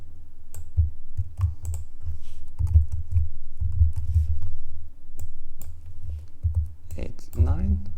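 Keys tapped on a computer keyboard while entering numbers into an HTML file, a steady run of close, crisp clicks in short bursts, with a brief voice coming in near the end.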